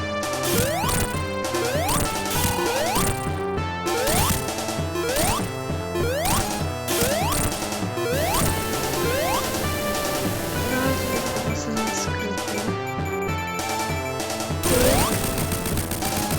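Dense, rapid metallic clangs and crashing hits ring out nonstop as a boss is smashed in Sonic 2, layered with bright chiptune-like tones and sweeping zaps, loud and busy throughout.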